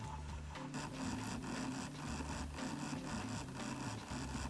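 A washing machine runs with a makeup sponge tumbling inside, giving a steady, close mechanical hum with a faint repeating whir and rattle throughout, and no voices.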